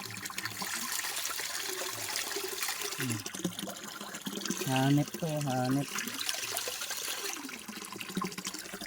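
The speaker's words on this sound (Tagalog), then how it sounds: "Hindi siya tumitigil sa paglalabas ng tubig." Water flows continuously from a fixture that will not stop running, a steady hissing, trickling stream heard throughout the clip at moderate level, with people talking and exclaiming over it.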